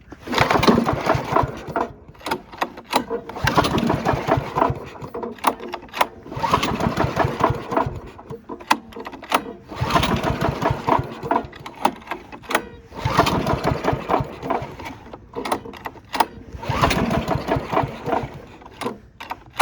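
A Honda commercial push mower being pull-started on a snowy day with the choke and fuel on, giving repeated bursts of recoil cranking and engine sputter in a steady rhythm without catching. The bursts are close and fairly loud.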